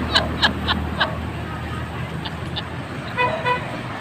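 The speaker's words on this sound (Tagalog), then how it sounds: "May pampasahero jeep dito." A passing passenger jeepney in Barangay San Vicente, Gumaca, Quezon, sounds a rapid run of short horn toots near the start, then a few more later, over road noise.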